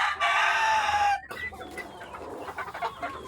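Chickens in a backyard pen, a loud burst of clucking and crowing for about a second, then fainter scattered clucks and rustling close by.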